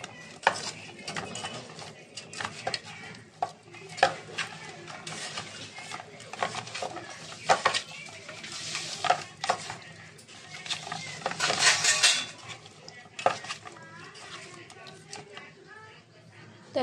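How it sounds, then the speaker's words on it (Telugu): Stirring a marinated korameenu fish curry mixture by hand in a pot, giving irregular clattering, scraping taps and wet patter at close range, louder in bursts and quieter between. "కలుపుకుందాం మంచిగా."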